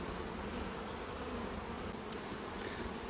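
Honeybees buzz as a steady, dense drone throughout a beehive inspection, close and continuous, with no voices.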